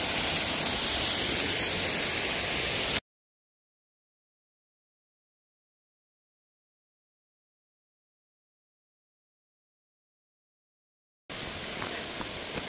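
Yeonsan waterfall at Naeyeonsan near Bogyeongsa temple sends out a steady broadband rush of falling water. It plays for a few seconds, cuts to complete silence for about eight seconds, then returns.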